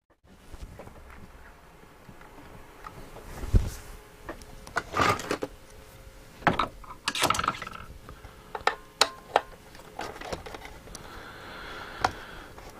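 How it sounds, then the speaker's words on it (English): Screws being removed from the underside of a Sovereign RPC1 cassette deck. Scattered clicks, ratcheting and small metallic clatters come close and moderately loud, with brief handling knocks between them and no talk. "we've got to take the screws out the bottom."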